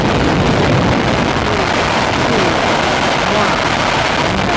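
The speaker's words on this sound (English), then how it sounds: "We have boost ignition and liftoff" Space Shuttle Atlantis on the STS-79 launch: main engine ignition and liftoff give a loud, broadband, crackling roar that fills the whole clip evenly, with no pauses or gaps.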